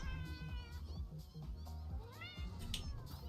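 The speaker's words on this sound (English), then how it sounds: "I think cats are fighting one another." Several cats fighting, with loud, wavering yowls and meows overlapping in continuous caterwauling, close and agitated throughout.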